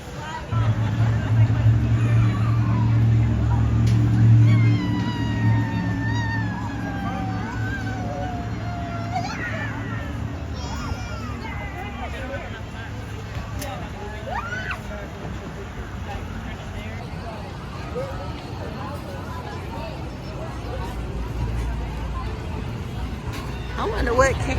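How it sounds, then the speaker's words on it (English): A busy crowd at the North Georgia State Fair, with a steady wash of overlapping voices and general outdoor bustle throughout, plus nearby talking and a voice close up in the foreground. "we're here at the fair"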